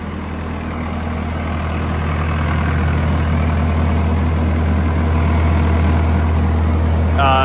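A 2005 Komatsu D39PX dozer engine runs at steady idle with a heavy, low diesel rumble. The machine has a transmission that won't go into gear and a wiring issue. The engine is close and continuous, with no speech.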